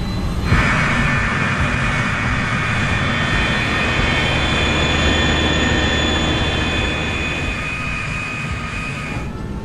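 Airplane engines drone loudly and steadily as an aircraft taxis toward the runway, a broad roar with a high whining tone running throughout, close and constant with no speech.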